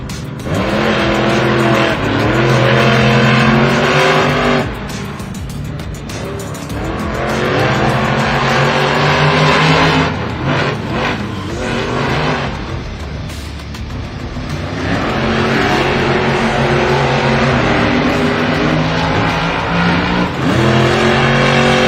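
Monster trucks racing in Monster Jam World Finals qualifying roar with loud, sustained engine revving and tire noise, pitch rising and falling as they accelerate across the track, with no talk.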